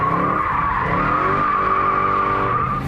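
A Dodge Hellcat spinning a victory donut, its tires squealing in a loud, sustained, wavering screech over a roaring engine that holds steady from start to finish.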